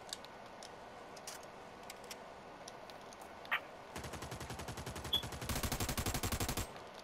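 Gunfire in a shooter video game, a few scattered distant shots followed by two rapid automatic bursts of evenly spaced cracks lasting a couple of seconds, faint and game-like.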